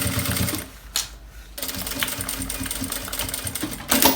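A sewing machine topstitching a luxury backpack, a loud close mechanical whir in two bursts with a short pause between, no speech.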